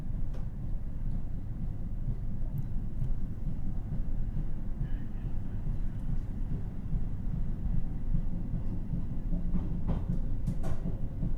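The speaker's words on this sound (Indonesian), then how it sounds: "kereta api Argo Bromo Anggrek diberangkatkan kembali dari stasiun Cirebon" Argo Bromo Anggrek express train pulling out of Cirebon station in Indonesia, heard as a constant low rumble of wheels and engine with a few faint clicks and knocks, steady and fairly loud throughout.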